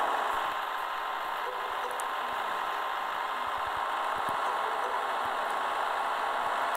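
Tractor engine in Farming Simulator 2014 on mobile, a steady droning idle with a faint mechanical knock, running constant and alone without pause.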